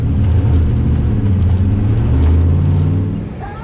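A street car making a drag racing pass roars loudly and steadily at close range, a deep rumbling engine holding strong for several seconds before easing off at the end.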